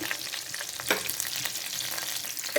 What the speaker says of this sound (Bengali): এখন এটা একটু ভাজবো আমি।